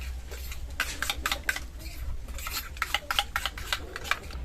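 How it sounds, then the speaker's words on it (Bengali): A spoon beats yogurt briskly in a bowl, mixed with turmeric, chili powder, coriander powder and a half spoon of sugar, giving close, rapid rhythmic scraping and tapping strokes in bursts, with no voices. "ভালো করে দইটা আগে ফাটিয়ে নেব।"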